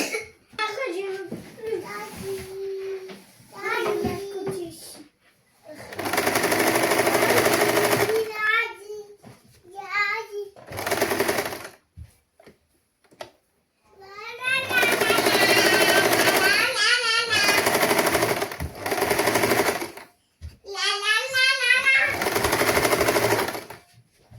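A sewing machine stitches around a saree blouse neckline in several bursts of rapid, buzzing stitching, each lasting a few seconds. A person talks in the pauses between the runs.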